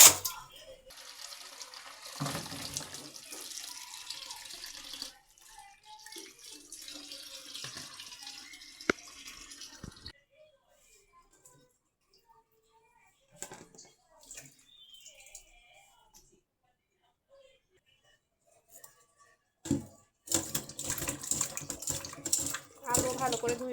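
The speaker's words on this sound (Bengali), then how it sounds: "তো এখন এগুলো সবজিগুলো আমি ধুয়ে নিব।" Tap water runs and splashes in a kitchen sink while vegetables, including potatoes, are washed by hand. The flow is loud and intermittent, with a long quiet gap in the middle, and a voice speaks over it.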